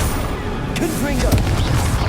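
A Confringo spell blast fired in the Hogwarts Legacy video game lands as a dull booming burst, with a voice speaking over the impact.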